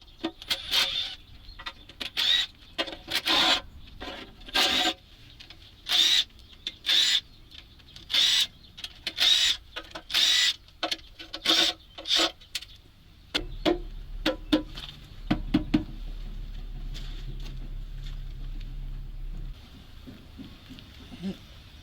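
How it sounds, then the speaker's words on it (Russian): Work on a ZIL truck engine as the oil pan comes off: a string of sharp ratchet clicks and metallic taps in irregular bursts, close by, then a low steady hum with faint knocks. "Снимаем поддон."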